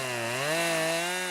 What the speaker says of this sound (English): With a chainsaw in hand, made sure my chain was good and sharp.